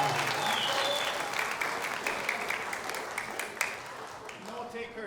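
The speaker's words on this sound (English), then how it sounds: "Give them a big round of applause." A crowd at a high school spring concert applauds steadily for several seconds, dense clapping that gradually thins, with some voices mixed in.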